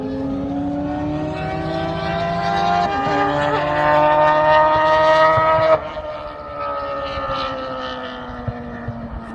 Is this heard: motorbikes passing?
yes